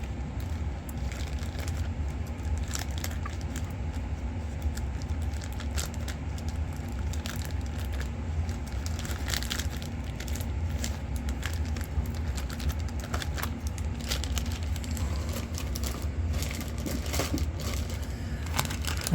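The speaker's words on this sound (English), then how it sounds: "Get our chrome back in the bag." Chrome parts from an MPC 1/25 scale Pontiac GTO model kit slide into a plastic bag, giving soft crinkling and scattered clicks of small plastic pieces over a steady low hum, close and fairly quiet, with no voices.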